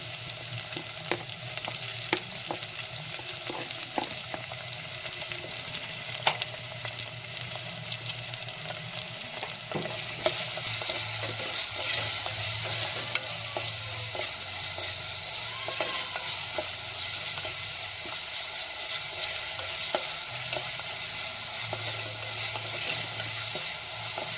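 Onion, green chilies and curry leaves fry in a pan for a mushroom curry, giving a steady soft sizzle with intermittent stirring scrapes and taps throughout, no voices.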